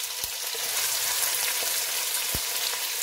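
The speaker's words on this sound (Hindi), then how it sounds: "ऑयल ऐड करने के बाद हम प्याज डाल लेंगे और इसको गोल्डन ब्राउन कर लेंगे।" Onions fry steadily in hot oil, browning toward golden for a Balochistani chicken sajji, giving a continuous close sizzle with faint pops and crackles and no voices.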